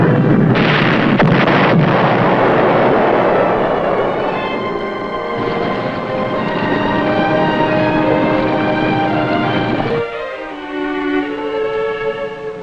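Gunfire at a ship during a wartime naval battle, a dense roaring barrage of blasts at first that settles into a sustained rumbling din and then cuts off sharply, with tonal engine-like droning beneath.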